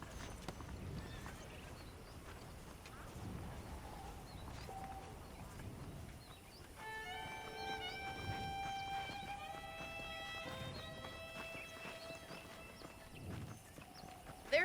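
Horse hooves clip-clop in a Western game setting, with steady rhythmic steps, a neigh, and bright musical tones sounding over the middle of the stretch.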